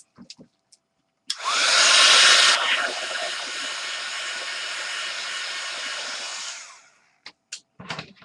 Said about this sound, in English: let's give it a quick blast with the heat gun